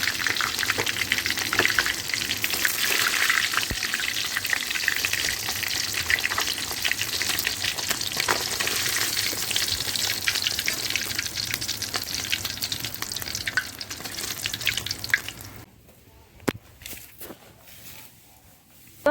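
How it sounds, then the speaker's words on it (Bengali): Bata fish lightly frying in hot oil, a dense, continuous loud sizzle for most of the stretch that drops away sharply near the end, leaving only a few faint clinks. "যেহেতু আমরা এই মাছের ভুনা বানাবো তাই মাছটা মশমশে করে না ভেজে হালকা একটু ভেজে নিব"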